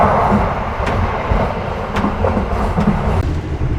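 The KA Anggrek passenger train runs straight through Bojonegoro station, heard from on board as a loud, steady rumble with faint rhythmic clicks of the wheels over the rails.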